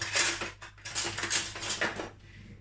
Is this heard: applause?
no